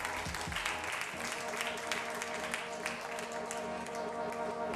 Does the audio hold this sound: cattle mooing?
no